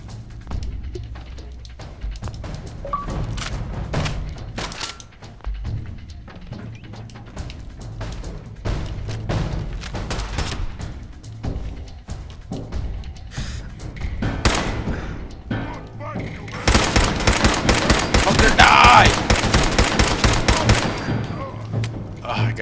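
Bursts of gunfire from a Fallout 4 fight crackle repeatedly over a steady low hum, building to a dense, loud volley of rapid shots near the end, with a voice speaking between them.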